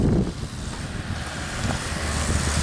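Wind blowing outdoors, a steady broadband rush with low rumbling buffeting against the microphone, continuous and fairly loud for the whole stretch with no talk.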